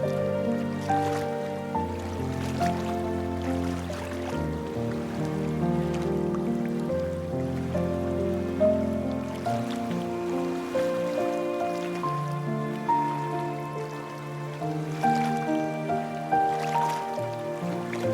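Steady rain from the video game Love and Deepspace patters continuously over soft layered music, a dense wash of drops with no voices, even and unbroken throughout.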